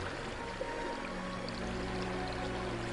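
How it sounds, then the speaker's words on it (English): River water flowing steadily in Sedona, a continuous broadband rush and gurgle that stays close and even throughout, with no voices. "the movement of the water, it's as if it brings in oxygen, brings life into the river"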